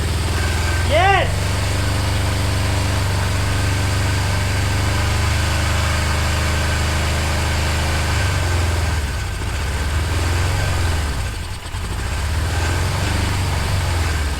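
A 1977 Suzuki GS550E motorcycle engine idles on choke with a steady, loud, close rumble that wavers slightly in places, and a voice speaks over it.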